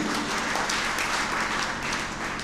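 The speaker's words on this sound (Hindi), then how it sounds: "एक बारी सब मिलकर तालियां बजाइए प्लीज" A crowd at a large Hindi poetry gathering claps together, a thick continuous roar of hands that stays loud and even throughout, with no voices rising above it.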